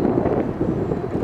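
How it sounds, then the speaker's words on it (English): Strong gusty wind buffets the microphone outdoors while a trainer model plane is flown, a loud, low, steady roar that stays rough and constant throughout, with nothing else heard above it. "that wind is really strong"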